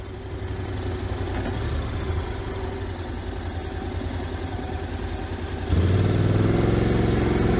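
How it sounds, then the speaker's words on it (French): A 2023 Honda NC 750X DCT motorcycle engine idling with a low, steady purr heard from the rider's position, turning louder and fuller with a deeper rumble near the end. "Je n'entends quasiment pas la moto en fait. J'ai un léger ronronnement, on dirait qu'elle est un peu en mode ralenti"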